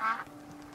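A single short duck quack from a video game, one brief nasal call at the start followed by a faint lingering tone.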